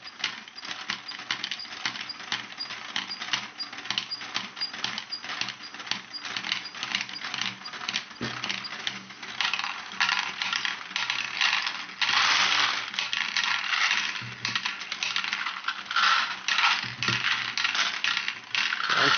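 LEGO Great Ball Contraption pump mechanism moving plastic balls, a continuous close rattle of ratcheting gears and clicking balls that grows denser and louder in the second half.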